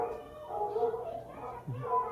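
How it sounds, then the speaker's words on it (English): Recorded dogs bark during the Carousel of Progress show at Walt Disney World, mixed with the ride's show audio and voices. "you can hear dogs"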